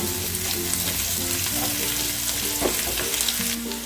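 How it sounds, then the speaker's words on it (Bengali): Chopped onion frying in a pan for boal fish curry crackles in a dense, continuous sizzle, with stirring and spatula scrapes close by. "দেখো আমার পেঁয়াজটা এরকমই আমি ভাজবো"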